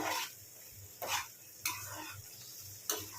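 Coriander paste frying in oil in a pan, a soft low sizzle underneath four sharp clinks of a spoon stirring against the pan, quiet and close.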